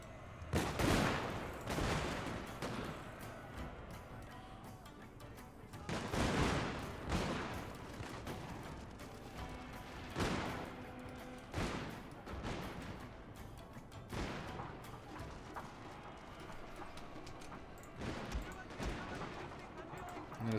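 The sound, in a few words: matchlock gunfire in video game Shogun 2 Total War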